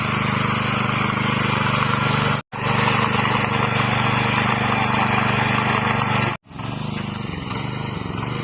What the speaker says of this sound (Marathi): ट्रॅक्टर पुढे घेऊन जातो हा ट्रॅक्टरला पाठी वाढतोय